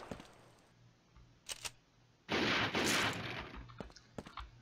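A grenade goes off in the video game Super Trench Attack, a loud, noisy, sustained burst lasting about half a second to a second, set between softer clicks and short pops in a quiet background.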